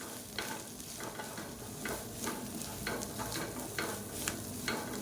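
Grated coconut being stirred into sautéed onions in a hot pan for a green peas gravy: repeated scraping strokes of a spoon against the pan over a steady low sizzle, close and alone with no voices.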